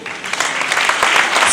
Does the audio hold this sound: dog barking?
no